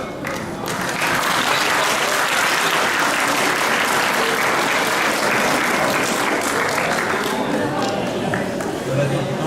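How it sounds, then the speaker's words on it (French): Loud, sustained applause from a large crowd at a 2016 community festival forum, a continuous roar of clapping that swells in after a brief opening and holds steady, with voices mixed into the din. "on a entendu les applaudissements"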